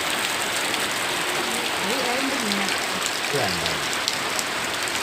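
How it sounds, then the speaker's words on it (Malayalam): Rain falls in a steady, even hiss that fills the whole stretch, with a faint voice briefly audible beneath the downpour. "എന്താ മഴ?"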